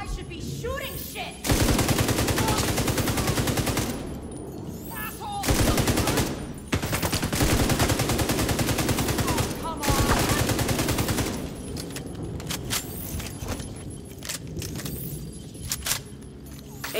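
Sustained automatic gunfire in The Division 2 during a Coney Island manhunt: long loud bursts of rapid shots separated by short gaps, then quieter scattered shots and clatter toward the end.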